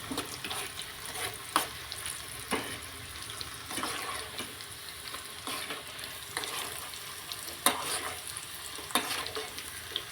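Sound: chilies and curry leaves frying in oil for tempering

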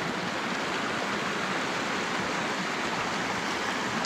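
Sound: creek water flowing

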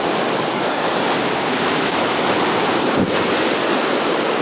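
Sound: swift river water rushing

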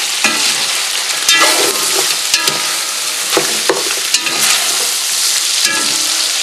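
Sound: stirring coq civet with thyme in a pot

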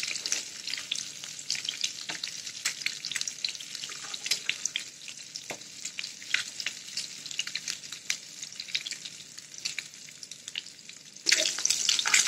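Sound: capsicum omelette frying in a pan

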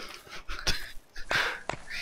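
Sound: hounds in the video game Don't Starve

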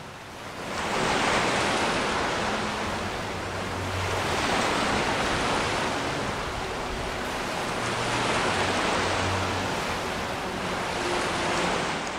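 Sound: ocean waves on shore in Skyrim video game

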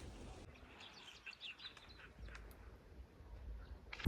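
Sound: birds singing outdoors

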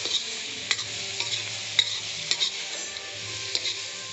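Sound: stirring tomatoes and spices frying in a pan

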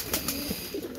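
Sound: flock of pigeons cooing at sunset

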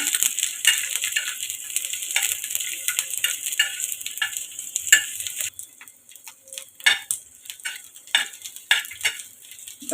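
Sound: sautéing ginger, garlic, onion and coconut masala

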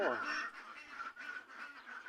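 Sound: ducks quacking

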